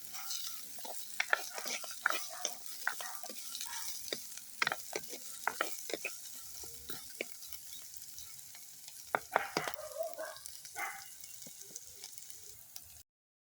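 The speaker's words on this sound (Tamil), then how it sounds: "வெங்காயத்தை வடிவாக வதக்கி எடுத்துக்கொள்வோம்." Onions sautéing in a pan for shark fish curry, stirred with a spoon, giving a soft steady sizzle broken by frequent scraping and clinking strokes, quiet and close.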